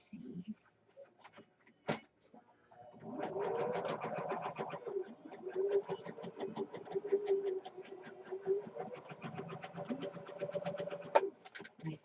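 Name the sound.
sewing machine stitching junk journal pages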